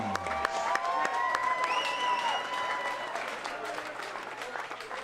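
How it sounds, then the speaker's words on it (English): Fight-night crowd applauding and cheering both fighters after three rounds, sustained clapping with shouts and whistles, while an announcer's amplified voice carries over the top. "let's give both fighters a big round of applause"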